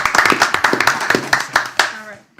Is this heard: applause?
yes